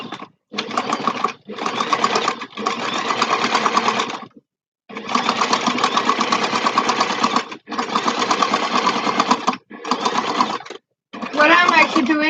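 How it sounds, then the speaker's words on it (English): A sewing machine stitches a little bag 1 centimetre inside the edge, running in loud close bursts of steady whirring separated by brief pauses, about eight runs in all. "what I'm actually doing is stitching it 1 centimeters inside."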